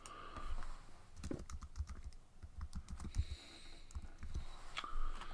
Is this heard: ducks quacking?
no